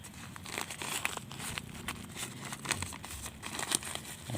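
Plastic polybag being torn and crinkled away from the soil-and-rice-husk-ash root ball of a pepper vine seedling, a steady run of close, rustling rips and crackles with no talk.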